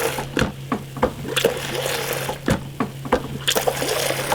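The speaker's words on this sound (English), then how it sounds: "you're pulling that water through until we get the beer line cleaner into the lines." Water drawn through beer lines while line cleaner is pumped in, heard as close gurgling, trickling and spurting pulses with irregular splashy bursts and a low steady hum underneath.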